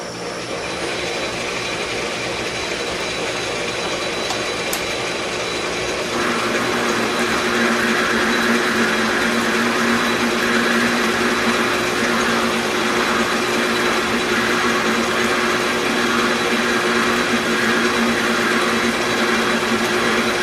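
A lathe hums and whirs continuously while turning a small bushing, a loud steady machine drone that picks up slightly partway through, with no voices.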